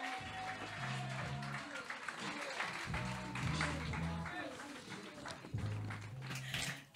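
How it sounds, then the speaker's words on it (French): Applause at an advertising trophy ceremony, busy clapping from a crowd mixed under loud, tonal stage music for the whole stretch, rising and falling with the music. "Merci d'applaudir"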